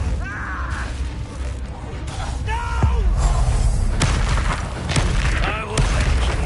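Fiery spell blasts in the Hogwarts Legacy video game, several loud booming explosions and thuds bursting over busy combat sounds, with fighters' shouts mixed in.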